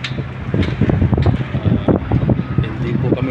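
Strong gusty wind at a construction site in Saudi Arabia buffets the microphone with loud, uneven low rumbling and flutter throughout, with no clear speech over it.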